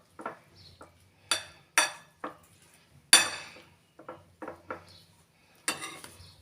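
Homemade aged cheese being stirred in a dish, giving a series of distinct clinks and scrapes of a utensil against the dish in an irregular rhythm, close and fairly quiet, with no talking.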